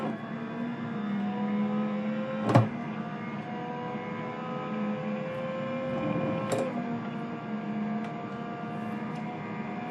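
BMW race car heard from inside, engine droning at steady revs with tonal whine, two sharp clicks or knocks as gears change, no voices.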